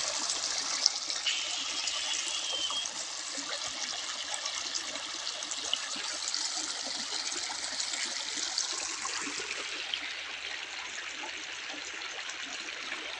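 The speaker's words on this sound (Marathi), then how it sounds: "ही आहे पाण्याची धार" Steady rushing of flowing water, a continuous bright hiss that holds evenly throughout with no voices.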